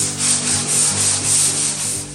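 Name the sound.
light sanding of polyurethane coat on cedar table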